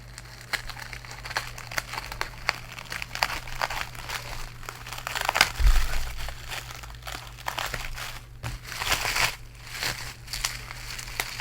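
Plastic wrapping on a parcel crinkles and crackles up close as it is handled and peeled away, with irregular bursts of crumpling, a few sharper crunches and tearing sounds, and a low steady hum underneath.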